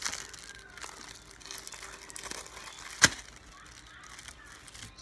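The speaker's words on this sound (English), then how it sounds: "So, I'm just going to take it out the wrapper." Plastic wrapper being pulled off a new mouse pad, with quiet crinkling throughout and one sharp crackle near the middle, close and fairly soft.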